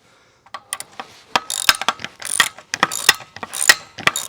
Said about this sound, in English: So I'm going to go ahead and remove those bolts.